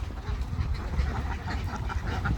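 A flock of domestic ducks quacks loudly and continuously at close range as they are herded in from the water, with overlapping calls and honks.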